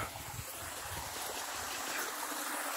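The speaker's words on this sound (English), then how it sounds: "there's that water right here flowing" Spring water runs steadily beside a water wheel in the Ozarks, making a continuous close rushing and trickling wash with no one speaking.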